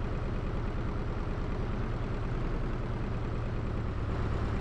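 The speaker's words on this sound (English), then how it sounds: "Tractor sounds, that's all there is in here, tractor sounds." A tractor engine in the driving game BeamNG.drive, a steady low diesel drone with a rapid pulsing chug, constant and fairly close, with no voices.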